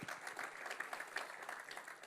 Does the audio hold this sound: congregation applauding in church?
yes